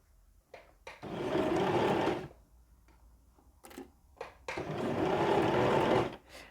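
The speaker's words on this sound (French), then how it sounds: "je fais un point de renfort et je repars" Sewing machine stitching fabric piping, two loud bursts of rapid mechanical whirring close up with a brief pause and small clicks between them as it makes a reinforcement stitch and carries on.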